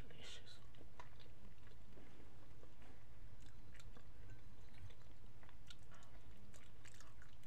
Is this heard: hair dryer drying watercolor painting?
no